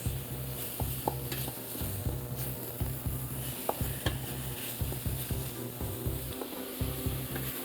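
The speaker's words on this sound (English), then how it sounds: "I'm going to sear that." Beef searing in a hot pot for beef stew, a steady close sizzle with repeated stirring and scraping knocks from a utensil throughout, no talking.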